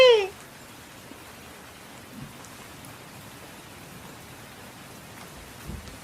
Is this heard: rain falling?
yes